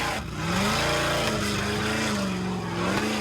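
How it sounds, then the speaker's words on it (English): A supercharged Chevy engine in an off-road 4x4 at an extreme challenge course, revving hard near the limiter, loud and close with rising and falling pitch as it works the throttle. "You can hear that supercharged Chevy really working, getting up to the limiter."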